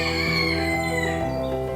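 Bantam chickens and roosters, with a loud nearby rooster crow that holds steady and then drops in pitch, and chicken clucking heard alongside it.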